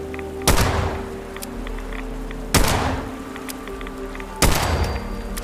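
Three loud single gunshots ring out in the video game Fallout 76, spaced about two seconds apart, each a sharp crack with a decaying rumble under steady background ambience.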